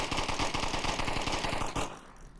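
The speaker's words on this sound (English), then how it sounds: "Rexar's pre-firing those boxes" Rapid automatic gunfire from a VR shooter, Onward, pre-firing into boxes: a dense burst of close, loud shots in quick rhythm for nearly two seconds, then cutting off abruptly.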